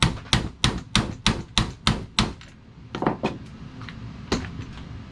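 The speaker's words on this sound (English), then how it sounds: "We're going to go ahead and start with hitting it with a smaller hammer." A small hammer strikes a stuck door strap part from a 1985 Mercedes 300D W123 held in a vise, sharp metallic blows in a fast, steady rhythm, about eight in a row, then a few scattered, slightly weaker hits close by.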